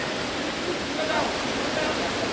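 Water of the Mo Ga mountain stream by Phượng Hoàng cave in Võ Nhai, Thái Nguyên, where people bathe, rushes in a steady, close, broadband roar that stays constant throughout.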